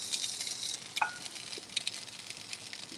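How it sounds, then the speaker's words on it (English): Food sizzles steadily in a hot skillet, a bright crackling hiss with a few small pops and a faint clink near the start. "Hear that sizzle?"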